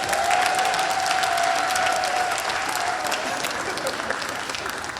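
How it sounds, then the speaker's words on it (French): A church congregation applauds Sébastien during a praise service, a dense, loud wash of many hands clapping that holds steady and tapers slightly near the end, with a faint tonal hum underneath. "Est-ce qu'on peut acclamer Sébastien?"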